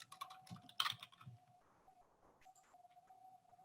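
Typing on a computer keyboard at a help desk, quick faint key clicks in short bursts over a quiet room with a soft steady tone underneath, no talk.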